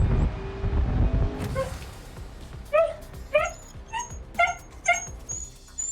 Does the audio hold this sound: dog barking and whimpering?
yes